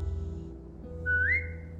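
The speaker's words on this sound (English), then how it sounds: "Now whistle and tell her to lie down." A short rising whistle in The Walking Dead video game, given as a command to a dog, sounds briefly over a low background hum, with no talking.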